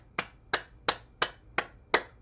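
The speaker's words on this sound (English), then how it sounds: "All right, clapping." Hands clap six times at an even, steady pace during a morning bouncing exercise session, each clap sharp and close with brief quiet between.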